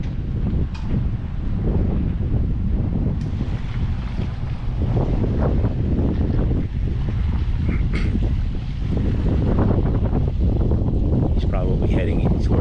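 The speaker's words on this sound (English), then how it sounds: "It's a windy day." Gusty wind buffets the microphone loudly and continuously at the St Lucie Locks, with a distant boat engine and people talking intermittently underneath.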